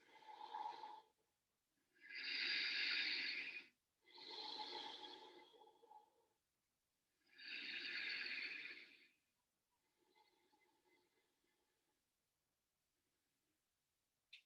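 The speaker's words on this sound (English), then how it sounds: "Deeply breathing." Slow, deep breaths during a yoga session come as four long, close exhalations with pauses between, then a fainter fifth breath trailing off into quiet.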